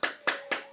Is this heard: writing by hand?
no